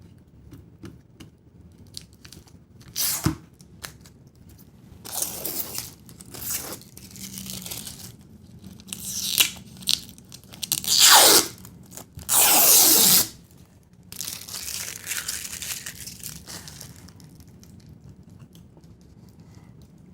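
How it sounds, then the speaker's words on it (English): Plastic wrap being peeled and crinkled off a lightsaber blade, with bursts of tearing and crunching rustle that come and go in uneven spurts, loudest in the middle, near and alone without talk. "First thing is remove the plastic wrap from the blade."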